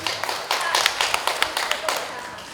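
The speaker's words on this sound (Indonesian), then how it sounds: "Kita beri aplaus Bapak Ibu." Audience at a university community event in Malang clapping, a short burst of scattered hand claps, moderately loud and close, fading slightly toward the end.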